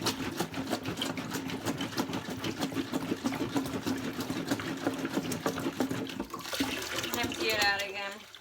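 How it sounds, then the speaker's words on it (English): Water sloshing and rattling as it is shaken inside the plastic tank of a Bissell Little Green Machine, a rapid rhythmic churning, then a gurgling pour as the tank is emptied. "Give it a good shake and empty out."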